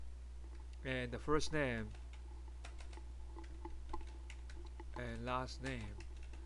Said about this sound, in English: Let's just type in some data